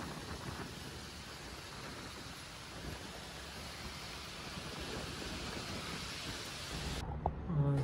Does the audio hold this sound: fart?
no